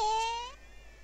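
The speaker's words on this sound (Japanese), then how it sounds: "ここには世界中から猫が集まって" A single synthesized cat meow from the 3DS game Bravely Second: one clear, tonal, slightly falling cry of about half a second that fades out, with no talk over it.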